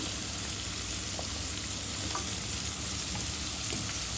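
Potato pieces fry in hot oil in a pan alongside bitter gourd and small fish, a steady low sizzle with a few faint scrapes of stirring and no voices.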